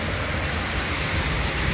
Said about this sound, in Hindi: बाहर हो रही है बारिश बड़ी ज़बरदस्त किस्म की